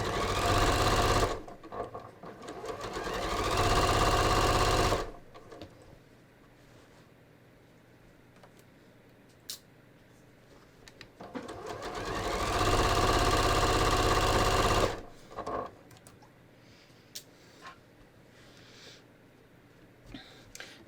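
Sewing machine stitching across the back of ready-to-wear pants, running in two steady bursts of about four and three seconds separated by quiet pauses with light handling noises.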